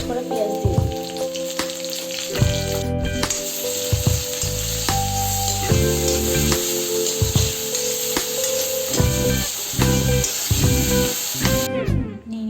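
Onions frying in a pan for a dhaba-style rajma masala, with a steady loud sizzle and crackle and occasional stirring clatter, all the way through and no talking.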